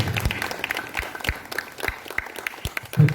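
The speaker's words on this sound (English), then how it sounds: "Give everyone a applause." Scattered, uneven clapping from a modest crowd at a school competitions closing ceremony, individual claps distinct and irregular rather than a dense roar, lasting a few seconds.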